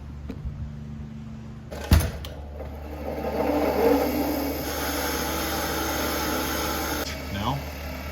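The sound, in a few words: wire wheel cleaning a brake part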